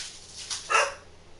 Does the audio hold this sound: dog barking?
yes